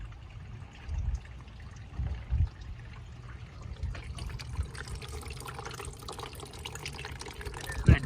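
Full-concentrate antifreeze coolant pours into a 2015 Honda Civic in a soft, steady liquid trickle with a few gurgling glugs, fairly quiet and close, with no talk over it.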